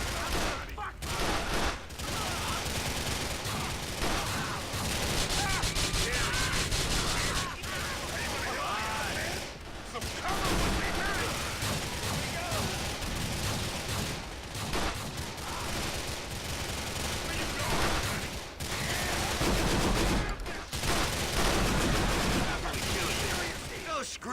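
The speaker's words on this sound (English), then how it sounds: "this shotgun you get from doing one of the Liz missions. Basically a full auto shotty." Full-auto shotgun fire in a GTA TLAD gang-war mission: loud, dense gunfire in rapid sustained bursts, broken by a few short pauses.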